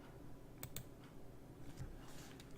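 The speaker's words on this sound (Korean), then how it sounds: "키보드를 보면 제가 무슨 키를 치는지 알 수 있을 것 같아서 이걸 꺼냈습니다" Faint keys clack on a computer keyboard, with a few separate presses spread over a couple of seconds against a quiet room hum.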